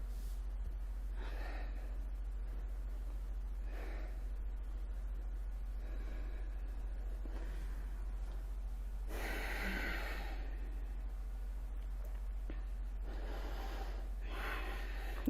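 A yoga student breathes deeply during an intense cardio interval flow, with several slow, audible inhales and exhales at a moderate distance over a steady low hum. No one speaks.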